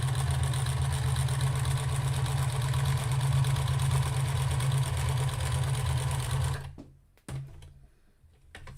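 A sewing machine stitching a roughly 1/8-inch seam while making a jar gripper, a steady loud mechanical whir with a running hum that runs unbroken, then stops with a few clicks and handling noises.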